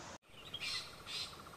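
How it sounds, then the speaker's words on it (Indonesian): Two short, bright calls of a long-tailed shrike, one after the other, standing out against a soft forest background. "itu suara burung centet"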